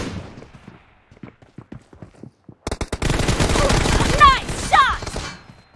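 M416 assault rifle gunfire in the PUBG Mobile battle game: sparse single shots at first, then a dense, loud burst of rapid automatic fire with metallic ringing tones near the end.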